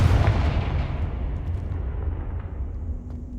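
Confringo fire blast spell in Hogwarts Legacy, a heavy booming burst that hits loud at once and then rolls off into a long, fading rumble, with no voices.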